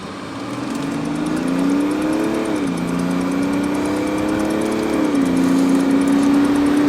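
A chip-tuned BMW 525 tds, 230 hp diesel, accelerating hard to 100 km/h, its engine droning loud and steady from inside, rising in pitch with two clear dips at gear changes.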